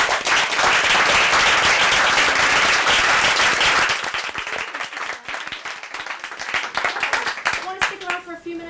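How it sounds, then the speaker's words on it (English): Audience applauding the panelists at the end of a gallery talk, loud dense clapping for about four seconds, then thinning into scattered claps under voices. "If we can give the panelists a round of applause"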